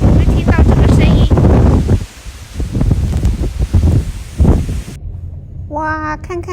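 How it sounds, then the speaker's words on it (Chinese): Very strong gusts of wind during a windstorm warning in the United States, roaring and buffeting the phone microphone up close with loud rushing surges. A person exclaims over it partway through. "哇，超级大风，有没有听到这个声音？"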